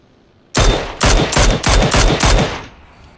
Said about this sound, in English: Shooting at him.